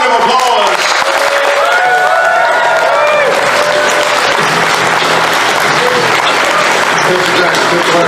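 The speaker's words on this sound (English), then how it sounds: "Please give Marcelo a big round of applause" Loud, continuous applause and cheering from a fan convention crowd at TFNation, with whoops and voices ringing out over the clapping.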